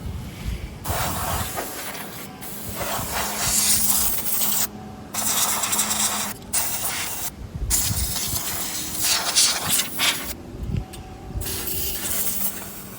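Compressed air can blasting dust out of a desktop PC, long loud hissing bursts separated by short silent gaps, with faint rattles and clicks of the case underneath.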